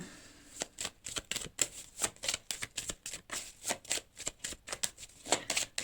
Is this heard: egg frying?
no